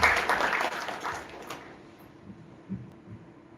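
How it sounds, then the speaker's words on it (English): Applause from a conference keynote audience fades out over a few seconds, leaving a quiet room. "So huge round of applause for him."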